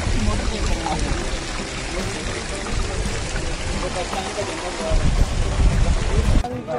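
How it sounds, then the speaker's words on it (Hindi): Cold water pours from a homemade, stream-fed cooler in Kumrat, a steady broadband rush that stays loud and close throughout and swells near the end. "ठंडा पानी आता है यहाँ से"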